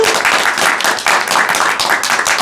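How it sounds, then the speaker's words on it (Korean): Loud, dense audience applause at the opening of a youth debate forum in the Yeongnam region, continuous and close with rapid overlapping claps and no talking. "큰 박수로 시작하도록 하겠습니다."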